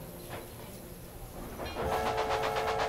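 A train departs from Atlanta in the railway management game Railway Empire. Quiet ambience gives way partway through to a louder, rhythmic rumble of rolling wagons that continues steadily as the train gets under way.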